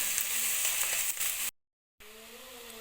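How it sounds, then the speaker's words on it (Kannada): Onions with curry leaves sizzle and fry in a pan for jeera rice, a close, bright crackling hiss that cuts out briefly, then returns more quietly. "ಈರುಳ್ಳಿ ಚೆನ್ನಾಗಿ ಫ್ರೈ ಆಗ್ತಿದೆ."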